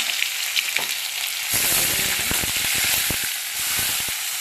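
Cumin, mustard seeds and ginger-garlic paste hit hot oil for a cauliflower palya, bursting into a loud, close sizzle with quick crackling pops and spatters that stay busy to the end.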